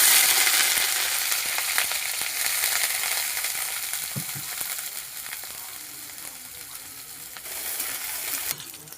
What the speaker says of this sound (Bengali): আমি এখন ঢালবো পেঁয়াজ।